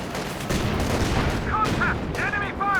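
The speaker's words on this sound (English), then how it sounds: "T-34 gets the opportunity to fire first" A T-34 tank fires in a Company of Heroes 2 match, its dense blasts of cannon and gunfire rumbling continuously alongside battle noise while a voice speaks over it.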